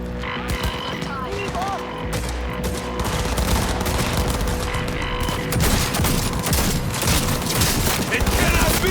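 Dense automatic gunfire in Cyberpunk 2077 sounds as rapid, loud bursts that grow heavier, layered with booms and game sound effects, and voices shout under the shooting.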